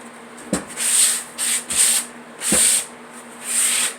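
Wood being sanded by hand for a blackwash finish, several short rasping strokes in bursts with brief pauses and light knocks between them, close and clear.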